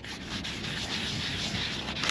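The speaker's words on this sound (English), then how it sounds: "In between coats, you just roughen the surface of the varnish a little bit" Close, steady rubbing as varnish on a boat is sanded by hand between coats, a continuous gritty scrape with slight rhythmic pulses and no voices.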